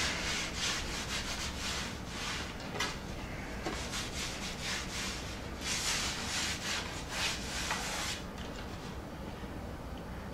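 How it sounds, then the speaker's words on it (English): An oil-soaked rag rubs oil into a fairly new wooden paddle, producing steady, close, rhythmic swishing strokes that continue without pause. "So I simply take my rag and give it"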